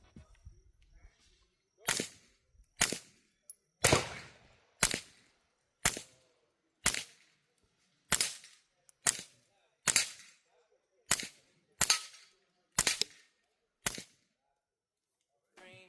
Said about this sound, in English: let me give you guys a couple shots just into the back berm, and you can hear how quiet this thing sounds